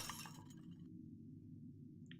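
A black porcelain cat statuette is smashed in The Cat Lady horror game, a brief bright ceramic shatter at the start that fades into a quiet low hum, with a faint clink near the end.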